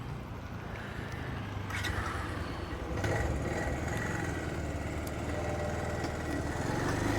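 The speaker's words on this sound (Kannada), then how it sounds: "ಸೊ ಇದು ನನ್ನ ಬೈಕು" A motorcycle engine idles with a low, steady throb outdoors, a constant rumble that swells a little partway through, moderately close and with no speech.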